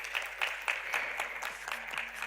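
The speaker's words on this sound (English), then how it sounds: "Can we please welcome him with a big round of applause?" Audience applause at a corporate bond outreach event, faint and thin, with sparse, irregular claps spaced out against a quiet hall.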